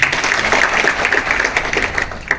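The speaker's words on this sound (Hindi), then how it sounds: "प्लीज इनके लिए ताली हो जाए।" An audience claps for a ninth-grade student at a motivational speaking session, a close, brisk patter of many hands that continues without pause.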